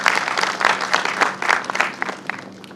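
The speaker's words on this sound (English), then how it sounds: "Friends, please give yourself a round of applause for being a part of this historic summit." Audience applause at the inauguration of a global tech summit in Goa, a burst of many hands clapping that swells in waves and then fades over a few seconds.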